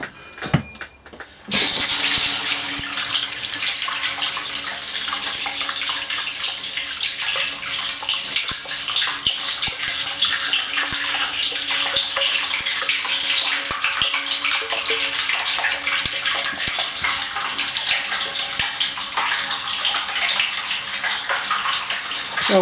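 Steady gushing water from a tap filling a tank in a home shed brewery during a refit, a continuous loud pour that starts after a brief clatter and runs without pause.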